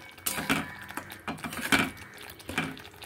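A spoon stirs ground mustard paste through a cooking pot while preparing a pointed gourd (potol) dish, giving intermittent scraping and clinking strokes at close range with short pauses between them.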